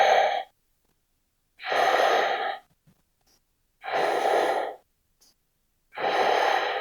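Slow, deep yoga breaths during a stretching flow, four long audible exhales or inhales spaced by silent pauses, close and clear with no talking.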